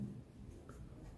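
Pen scratching on paper during an English lesson, a brief, faint, steady rasp of writing with no talk.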